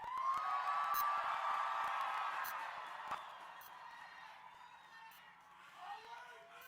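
Large rally crowd cheering and whooping in a broad, sustained roar that is loudest at first and then gradually eases, with a brief renewed swell near the end.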